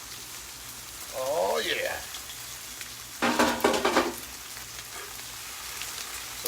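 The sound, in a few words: cabbage frying in a pan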